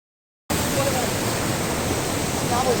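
Shoilprapat waterfall in Bandarban roars as a dense, steady rush of falling water that starts abruptly and then holds loud and unbroken, with faint voices under the roar.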